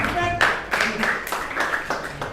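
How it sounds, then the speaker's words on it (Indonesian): Classroom applause for a student group after their presentation, with a burst of clapping from several students that swells into repeated loud bursts of hands across the room. "Sekali lagi tepuk tangan buat kelompok 3."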